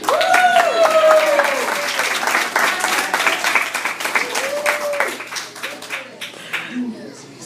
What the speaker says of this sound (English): please give a warm round of applause for Roger, ladies and gentlemen